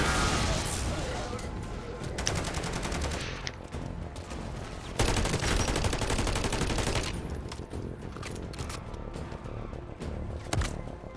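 Rapid gunfire from the video game Modern Warfare Zombies, with sustained automatic bursts and repeated loud volleys filling the clip, heavier stretches alternating with brief lulls, while a voice speaks faintly underneath.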